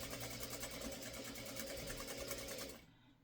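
A sewing machine stitches fabric triangles for a quilt with a steady, even mechanical whir that runs continuously, then stops abruptly near the end.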